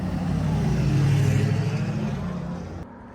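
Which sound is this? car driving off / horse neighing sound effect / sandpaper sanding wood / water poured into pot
car driving off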